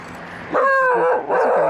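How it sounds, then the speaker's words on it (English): A dog tied up outdoors gives a short burst of high, whining yips and bow-wows at close range, two quick vocal bursts within about a second. "Dog's tied up."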